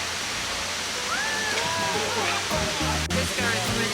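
A waterfall in Luang Prabang, Laos, with water dropping down as a steady close broadband rush, with brief voices and faint splashes mixed in.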